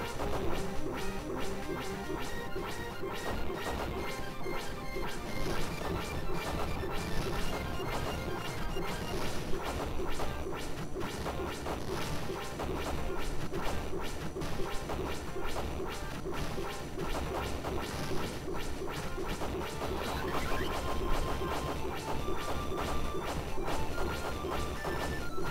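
Homing missiles from the Enforce Fighter A-144 strike the ground in the shoot-'em-up game Phalanx, making a loud, steady barrage of crashing impacts and swooshes that never lets up, with no talking.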